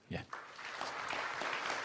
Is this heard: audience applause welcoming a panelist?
yes